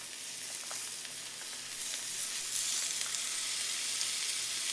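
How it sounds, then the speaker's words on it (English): Pork sausage fries in a pan with vegetables, giving a loud, continuous, hissing sizzle with a few faint stirring clicks. "I'm going to pop the pork sausage right into the pan"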